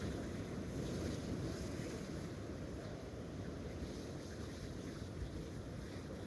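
Sea waves surge against the rocks at night on the Anglesey coast during rock fishing. A continuous roar of surf mixes with wind rumble, fairly close and steady throughout with no talking.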